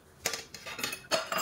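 A plate being handled in a kitchen while making a sweet, with a few soft clinks and knocks of dishware set down in short bursts, faint and close, no voices.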